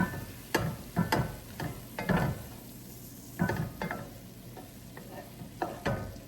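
Spice being stirred into vegetables cooking in a soup pot: a soft, steady sizzle under repeated scraping and clinking strokes of a spoon against the pot, fairly close and with no talk.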